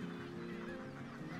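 Gannet colony of about 35,000 breeding pairs on a rocky island off Ireland's Kerry coast, a dense, continuous chorus of harsh overlapping calls, loud and unbroken throughout.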